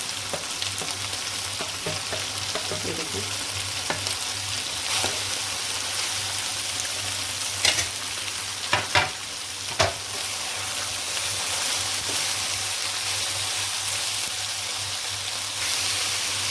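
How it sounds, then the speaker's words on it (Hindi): Vegetables and chicken stir-fried in a pan for macaroni, a loud continuous sizzle with scraping spatula strokes and a few sharp clacks near the middle. "इनको मैं भून रही हूँ"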